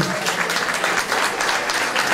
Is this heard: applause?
yes